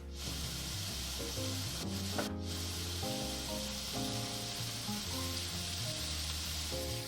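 Ground pork sizzles in a very hot pan, a dense, even, continuous hiss of frying heard close up, steady throughout with a few faint scrapes and no talking.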